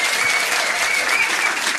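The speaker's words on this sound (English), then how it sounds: "Come on, give him a big round of applause." A pub crowd at a trivia quiz night at The Granta gives a contestant a big, loud round of applause: thick, continuous clapping that fills the room with no talk over it.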